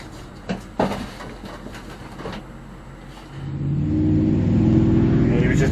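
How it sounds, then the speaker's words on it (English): A Chevrolet Nova spins its tires at a drag strip, a rising roar of engine and rubber swelling in the last seconds after scattered clattering and background chatter, loud and fairly close. "He was just blowing the tires off."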